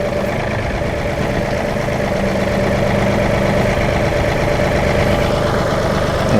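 A John Deere 2038R compact tractor idles while its 220R loader is being attached, giving a steady, even engine drone close by with no change in pace.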